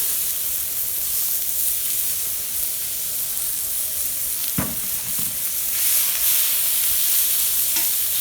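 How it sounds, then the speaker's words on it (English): Chopped tomatoes hit a hot pan of browning Johnsonville chorizo, a steady close sizzle and hiss with brief clatters of stirring and a louder burst of frying toward the end. "now we're gonna toss in the tomatoes"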